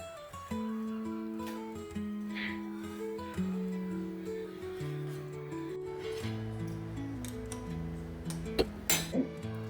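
Crispy jowar thalipeeth served onto a plate with light clinks of dishes and cutlery, scattered close taps over steady background music.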